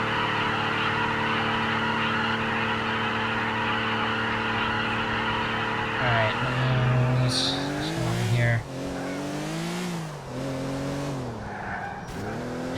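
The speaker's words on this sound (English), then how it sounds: "let's get in here and then let's do a burnout" A car in a video game does a burnout, its engine droning steadily before revving with rising and falling pitch as tires squeal and skid, loud and close.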